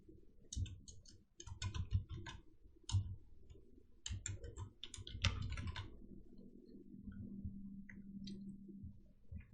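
Rapid, uneven key clicks from a computer keyboard while text is entered, in bursts with short pauses and a low room hum underneath, fairly close and moderately loud, with no voices.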